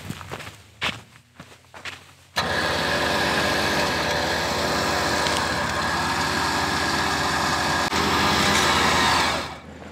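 A winch pulls and tightens synthetic rope under load, a steady close mechanical motor drone starting abruptly after brief footsteps and shuffling, holding for about seven seconds with rising tones, then cutting off.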